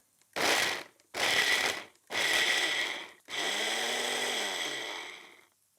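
A blender pulses Parmesan cheese into crumbs in four loud, close bursts, each a dense whirring grind, the last burst longer and sustained before cutting off.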